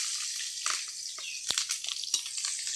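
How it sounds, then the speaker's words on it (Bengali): Curry leaves fry in hot oil with a bright, crackling sizzle, close and fairly soft, punctuated by a few sharp pops and the light scrape of stirring. "এগুলো কারি পাতা ভাজা হচ্ছে।"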